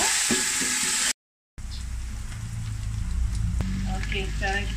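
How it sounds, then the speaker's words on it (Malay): Fenugreek seeds and whole spices crackle in hot oil for a snakehead fish curry, a close, continuous bright sizzle broken by a brief silent cut, with faint spattering pops throughout. "Dah panas, kita masukkan halba, biji halba dengan rempah"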